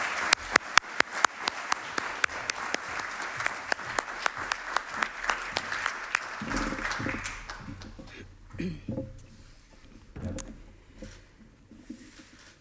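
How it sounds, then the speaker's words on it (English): An audience at a Europe Day roundtable applauds steadily, dense clapping that carries on for several seconds, then thins into scattered claps with some murmuring and movement. "give her a warm applause"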